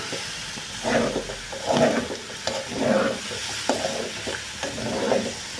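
A green leafy pulao mixture with peas is stir-fried in a pan, with repeated rhythmic scraping strokes of a spatula over a steady hissing sizzle.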